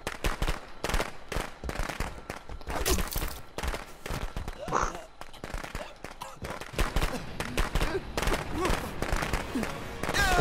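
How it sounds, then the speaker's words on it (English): Fireworks set off in Friday the 13th: The Game crackle in rapid, popping bursts like sharp volleys, fairly loud and dense, with a voice briefly heard in the middle. "Oh, he let off fireworks in grapple mode."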